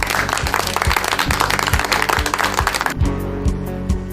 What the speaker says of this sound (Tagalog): bibigyan ko kayo ng maraming palakpak.